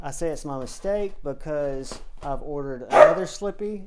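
Someone talks continuously while unboxing a knife as a dog gives a short, sharp bark near the end, briefly cutting over his voice.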